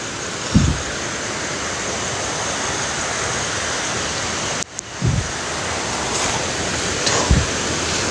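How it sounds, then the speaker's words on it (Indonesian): Rushing river water at the foot of tall cliffs, a steady, loud broadband roar that runs unbroken from start to finish, with a few brief low thumps near the microphone. "Wih, ini sungai."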